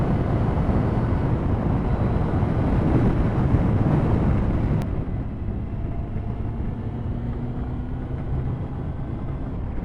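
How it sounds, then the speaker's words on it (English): A 2000 Honda Fireblade motorcycle engine droning steadily while riding, heavily mixed with wind buffeting over the microphone; the roar drops to a quieter, smoother hum midway through. "Very smooth engine. Hondas always make a nice engine."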